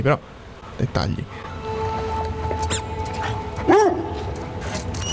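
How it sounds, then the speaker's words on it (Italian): Dog barks from The Last of Us Part II, recorded from real dogs, sounding as a few short yelps and barks amid game ambience, with someone talking over them. "gli abbai sono sempre veri"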